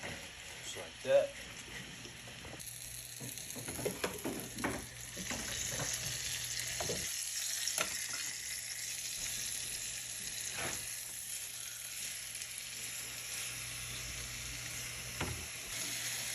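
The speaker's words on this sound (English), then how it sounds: "Right, nice little sizzle." Chicken sizzles and fries in olive oil in a pan while making homemade Alfredo sauce, a steady hiss running throughout with occasional stirring clatter and a person talking over it.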